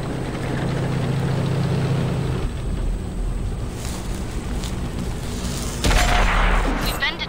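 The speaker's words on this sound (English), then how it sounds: "So we stick a nice shot into the side of the VK 100-01P." A single heavy tank cannon shot booms late in a World of Tanks battle, rising briefly over the steady rumble of a tier 9 Chinese tank's engine.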